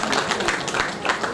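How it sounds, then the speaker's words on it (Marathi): Audience applause at an award ceremony honouring recipients, a dense crowd of hands clapping steadily at moderate volume for a short burst, with a faint murmur of voices in the mix. "जोरदार टाळ्या वाजवून आपण त्यांचं अभिनंदन करायचं आहे."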